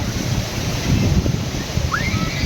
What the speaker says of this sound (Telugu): సముద్రపు అలలు ఏ విధంగా వస్తున్నాయో